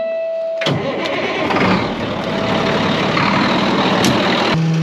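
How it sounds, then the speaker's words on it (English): Straw blower engine cranking and catching after a near-silent start, then running loud and close with a rough, steady roar before cutting off abruptly. "Sean's making sure the straw blower runs"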